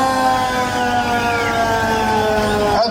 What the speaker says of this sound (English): This 1941 fire engine built by White, St. Helena Fire Department.